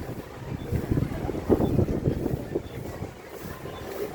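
Wind gusts buffet the microphone outdoors in Tagaytay near a market, a rough low rumble swelling and fading in uneven bursts, moderately loud and with no clear speech.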